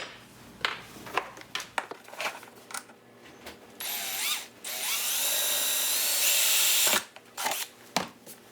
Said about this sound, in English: A 5/16 drill bit is the perfect size for the mounting screw